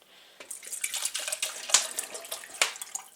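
Water splashes and trickles unevenly into a cup in a kitchen, a close, moderately quiet flow that sputters with irregular bursts and drips as the supply runs out.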